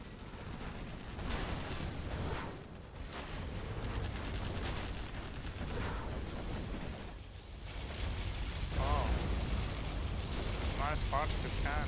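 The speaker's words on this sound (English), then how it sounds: "It's amazing to watch nuke." Nuclear missile explosion in the strategy game C&C Zero Hour, a long rumbling blast and roar that swells into heavy crackling noise, continuous and fairly loud, with sporadic clicks and bursts.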